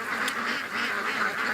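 A short, dense burst of overlapping quacks from a group of domestic ducks near a creek, steady and fairly close.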